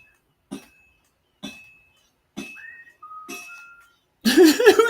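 Whistled notes ring out in Kingdom Come Deliverance II over several short, separated hammer-like clinks at a forge. A louder burst of mixed noise follows at the end.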